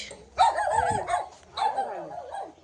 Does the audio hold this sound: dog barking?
yes